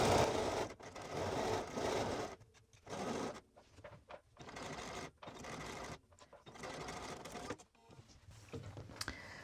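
Home sewing machine running a 3.0 mm stitch along a matched hoodie yoke seam, in several bursts of rapid stitching separated by short pauses, close and fairly loud.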